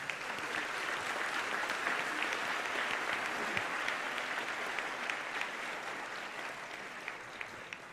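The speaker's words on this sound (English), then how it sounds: "a big round of applause for all our PhDs." A convocation audience at NIMHANS applauds the newly conferred PhD graduates, producing a sustained, even roar of many hands clapping at moderate distance, with no speech over it.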